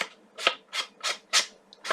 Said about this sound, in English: I am going to have to use my sanding block.